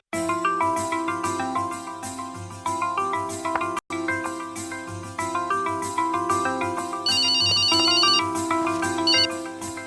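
A phone ringtone plays during a call in a Telugu comedy film scene, a bright repeating melodic jingle with a steady rhythm, loud and alone, briefly cut once.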